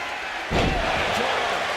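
A wrestler is driven onto the ring mat with an electric chair drop, landing in one heavy, booming thud that rises out of steady arena crowd noise, which carries on after the impact.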